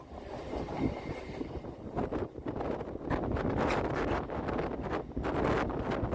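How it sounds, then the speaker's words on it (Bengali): A Howrah–Digha local train pulls away and rolls along, a loud rumbling clatter from on board mixed with gusty wind noise that builds as it gathers speed. "ট্রেন ছাড়ল"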